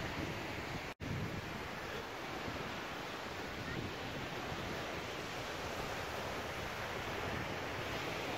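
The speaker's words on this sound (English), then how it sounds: "A lovely beach." Surf washes steadily onto a beach at Koh Samet, Thailand, a soft continuous roar of waves with wind noise on the microphone and one brief dropout near the start.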